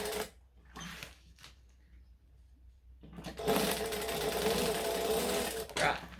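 A sewing machine stitching garment alterations, with a few brief bursts after which it runs in one continuous close whirring stretch, while someone talks between and over the stitching.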